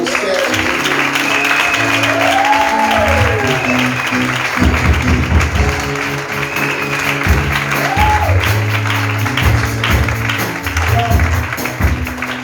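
A church congregation applauds through a healing worship service, steady clapping under a held musical tone and rhythmic accompaniment, with voices rising briefly over it.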